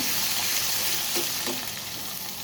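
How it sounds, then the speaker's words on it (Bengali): Spice paste of turmeric, chili and ground cumin frying in a pan, a loud, continuous close sizzle with stirring noise that eases slightly toward the end, no talking. "মশলাটা আমি ভাজা নিব"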